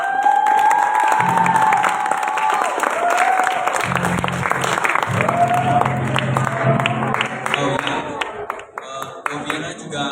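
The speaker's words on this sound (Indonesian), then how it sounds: "yang terakhir mungkin tepuk tangannya harus lebih keras biar dia tidak terlalu nervous, yaitu dari Loviana" An audience at a junior high school Indonesian-language final debate claps and cheers loudly and steadily, with children's shouts and voices rising over the applause.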